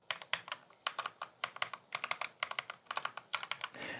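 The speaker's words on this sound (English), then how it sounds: "is what a brown switch sounds like" Close, continuous typing on a brown switch mechanical keyboard produces quick, soft-edged clacks in uneven clusters, with a muffled thump near the end and no talk.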